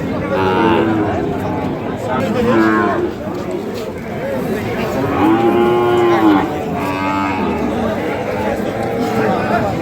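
Cattle, including Sahiwal bulls and calves, moo loudly several times at a village cattle market, long low calls rising and falling, while people talk and chatter around them nearby.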